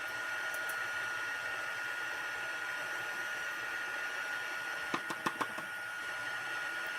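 A heat tool blows over silver embossing powder on a handmade card, a steady close whooshing roar that runs the whole time, with a few sharp knocks near the end.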